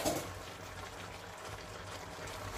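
Crab with string beans, squash and spring onion simmering in coconut milk in a pot, a steady soft bubbling and watery burble, close and fairly quiet, with no talk.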